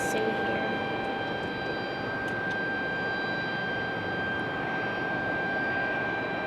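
A Delta airliner from Atlanta departs as a steady, broad engine roar with a faint high tonal whine. It holds even and continuous throughout at moderate distance.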